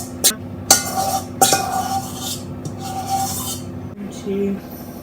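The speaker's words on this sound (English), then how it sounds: "I'm trying to get every bit of this I can out of this bowl" A utensil scrapes butter mixture from a mixing bowl for chocolate brownies, giving a few sharp clinks and knocks over a steady rasping scrape, close and fairly loud, with faint background hum.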